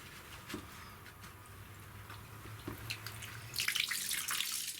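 Cold water from a winterized rain harvesting setup runs and splashes, faint at first, then a brighter, louder gush near the end.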